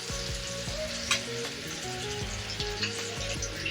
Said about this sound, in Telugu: స్లోగా ఇలా తిప్పుకుంటూ బాగా కలర్ చేంజ్ అయ్యేదాకా ఫ్రై చేసుకుందాము